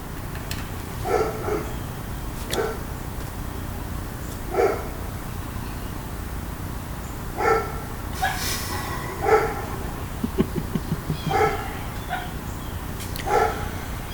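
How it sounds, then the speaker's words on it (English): A dog barks in short, separated bursts, about eight sharp woofs spread over the stretch, moderately close and otherwise quiet between barks. "Hush, dog."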